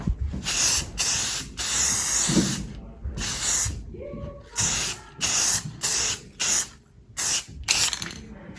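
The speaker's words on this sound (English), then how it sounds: "I'm just gonna spray it on the bottom." Bursts of aerosol spray paint hiss onto a homemade jerkbait fishing lure, about a dozen short and long blasts in an uneven rhythm, close and loud with brief quiet gaps between them.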